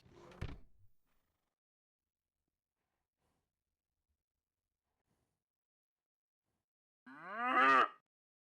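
A single loud cow moo from the farming game Ranchbound near the end, preceded by a short thud at the start and a long silent gap between.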